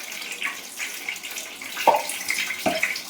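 Chopped vegetables are rinsed under a running tap, a steady soft rush of water with a few louder splashes as they are moved around in the stream.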